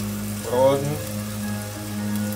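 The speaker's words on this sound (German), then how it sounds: "Tahu dann mal kurz anbraten." Tofu frying briefly in a pan for a vegan Thai fried vegetable rice, a steady soft crackle and sizzle with a low hum underneath, rising slightly around the first second.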